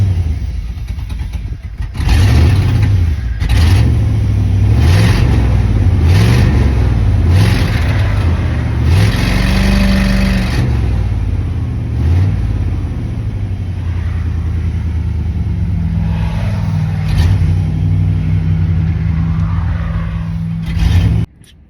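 A Chevy truck engine running rough as the gas is feathered, loud uneven revving surges that rise and fall repeatedly, then settle into a lumpy idle before a final rev near the end.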